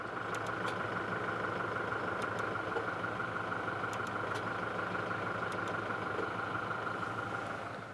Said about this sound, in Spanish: con la puerta abierta quiero que escuchéis el motor